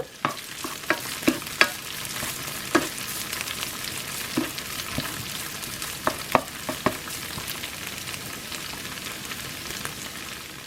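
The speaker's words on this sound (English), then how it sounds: "You see my radish start to be cooking, and tofu is start cooking too." Sweet radish and tofu fry in a pan for pad thai, a steady close sizzle broken by sharp scraping clicks of stirring at irregular intervals.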